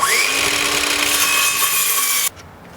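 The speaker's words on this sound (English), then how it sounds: "I'll back up 1/4 inch about, and I'll make another cut." A saw cuts steadily through a 4x4 board for a log rack relief cut, loud and close with a continuous rasping whine that stops abruptly near the end, leaving quiet room tone.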